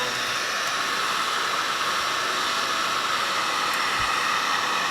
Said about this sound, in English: now I'm going to turn my heat gun on